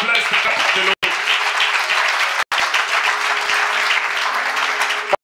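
A church congregation bursts into loud, sustained applause, a dense wash of many hands clapping together that is cut off by two brief drops before swelling again.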